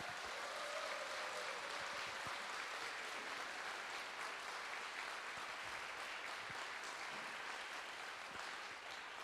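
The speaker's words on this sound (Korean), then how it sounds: "큰 박수 부탁드립니다." Steady audience applause welcoming the Busan Conductors Choir at a concert, even, sustained clapping from a hall full of people, moderately distant and continuous for several seconds.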